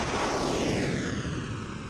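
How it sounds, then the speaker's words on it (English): A sustained, loud roar of cruise missiles launching from a French warship at night, a dense rumbling blast that fills the whole stretch with no voices over it. "Cruise missiles launched from a French warship last night"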